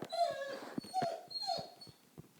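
A dog whimpers in several thin, rising whines with short breathy gaps, close by and fairly quiet, with no talk over it.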